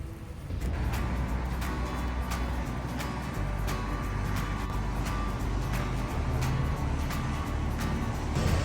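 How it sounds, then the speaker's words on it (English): A car drives along during a driving lesson on the first snow, giving a steady low engine and road rumble from inside the cabin, with faint regular ticking over it. "today we're going to be driving at the first snow"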